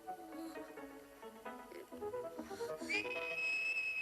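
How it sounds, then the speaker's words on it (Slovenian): A whistle blown to call for help in a children's animated cartoon: a rising run of tones ends in a long, steady, piercing whistle held over background music. "Starši naučijo svoje otroke tudi žvižgati, da pokličejo na pomoč, če so v nevarnosti."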